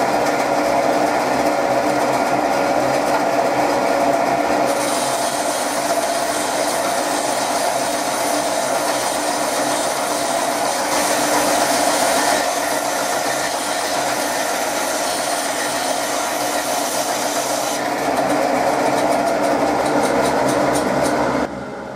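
A power saw cuts steadily through a block of wet, still-damp olive wood in a knifemaker's workshop, giving a loud continuous whine that shifts in pitch partway through.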